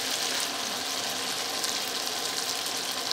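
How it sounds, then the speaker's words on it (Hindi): Chicken biryani masala mixed with yogurt fries in a pan with a steady, close, broadband sizzle that holds evenly throughout, no voices over it. "और इसको अच्छी तरह भूनेंगे"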